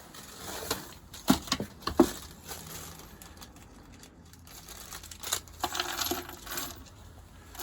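Small metal screws, 1/4-inch and 5/16-inch, tumble and clink out in a few brief bursts of rattling, followed by softer rustling handling, fairly close and quiet with no talk.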